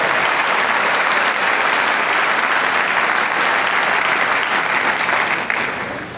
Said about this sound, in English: About one more hand of applause for our two student speakers.